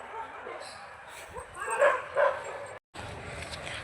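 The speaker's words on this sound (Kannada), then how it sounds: "ಎಲ್ಲ ರೆಸ್ಕ್ಯೂ ಮಾಡಿರೋ ಪ್ರಾಣಿಗಳದು ಸೌಂಡು" Rescued dogs at an animal hospital, with ambulances queued outside, yip, bark and whimper nearby in short bursts, mixed with background chatter and room noise, with a brief dropout near the end.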